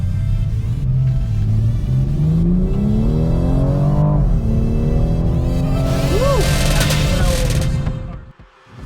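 A 2018 BMW M240i xDrive accelerates hard in sport mode, engine note climbing steadily through several gears with brief shift breaks, loud and continuous before fading at the end.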